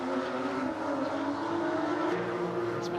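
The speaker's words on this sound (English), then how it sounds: "These fabulous screamers from Stuttgart, the Porsche 997s" Porsche 997 GT3 Cup race cars scream past on the Taupo Motorsport Park circuit, a continuous loud high-revving engine drone with shifting harmonics lasting throughout.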